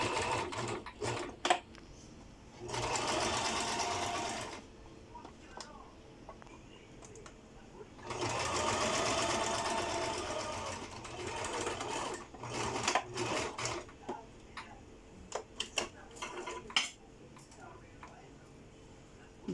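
A sewing machine stitches a skirt waistband seam in two sustained whirring runs of a few seconds each, separated by clicks and handling of fabric, with light ticking between bursts.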